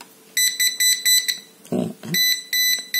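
A high-pitched Taffware non-contact voltage tester pen beeps in slow, evenly spaced pulses for a low detection reading, with a brief rustling handling noise interrupting the sequence midway.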